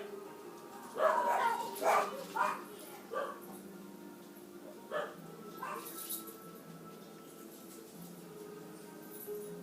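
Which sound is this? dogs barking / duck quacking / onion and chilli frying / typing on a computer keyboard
dogs barking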